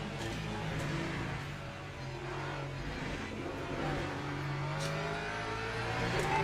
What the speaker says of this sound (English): That Alpine does sound fantastic from outside